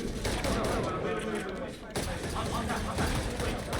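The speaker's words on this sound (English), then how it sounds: "Dan the man shooting from above." Rapid gunfire from a competitive shooter match at a LAN event, steady bursts and shots running throughout, partly under a caster's talk.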